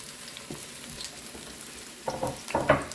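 Chopped onions and peppers sizzle in hot oil for Italian sausage and peppers, a soft steady fry that breaks into louder crackling bursts near the end as the vegetables go into the pan and are stirred.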